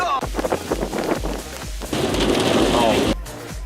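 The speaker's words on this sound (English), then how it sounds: "Hail! Oh my god!" A sudden hailstorm batters surfaces outdoors in a cold late-winter spell, a dense clattering rush of hail and rain growing heavier, with excited voices reacting over it.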